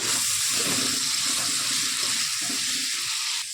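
Chicken pieces seasoned with salt fry in hot oil for chow mein, a loud, dense, continuous hiss like rushing water that holds steady close by and then eases slightly at the end, with no talking.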